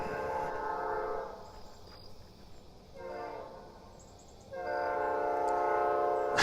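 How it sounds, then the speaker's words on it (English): A train passes with its horn sounding in two long blasts, loud and near, with a quieter stretch of rumble between them and no talk over it. "Oh, the train."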